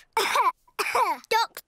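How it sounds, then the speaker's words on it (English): A cartoon pig character gives a few rough, voiced coughs and throat-clearing grunts in three short bursts, close and clear, with no other sound around them. "Got a cough."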